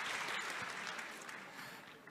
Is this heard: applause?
yes